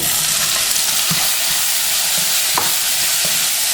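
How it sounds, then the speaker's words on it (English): Beans going into rice frying in a pot for a Haitian rice dish, a steady loud sizzle running throughout with scattered scraping stirs and knocks close by. "Okay, now you want to go ahead and put your beans in."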